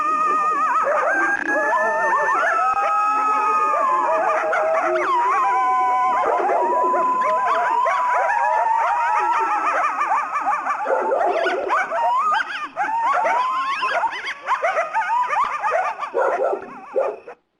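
Coyotes calling outdoors in Escondido, California, a dense chorus of wavering howls, yips and squeals that swells and breaks up, with a dog joining in near the end.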